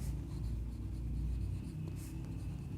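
A pen scratches steadily across paper while a math solution is written out, a continuous close scribbling texture with no voice over it.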